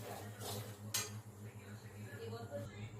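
A spoon scrapes and clinks against a pan while semolina fries in ghee, producing a few sharp metallic taps and soft scraping strokes over a low steady hum, fairly close and quiet.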